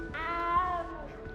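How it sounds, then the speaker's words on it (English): A cat in the video game Hogwarts Legacy gives a single drawn-out meow, clear and close, lasting nearly a second over a soft game ambience. "You don't need to be frightened, little cat."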